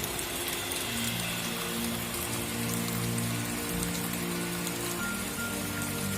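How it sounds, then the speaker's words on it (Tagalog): Heavy, unrelenting rain falls during a week-long downpour with flooding in a yard, a steady dense patter on surfaces with faint low hums beneath, constant throughout. "lakas ng ulan na walang tigil"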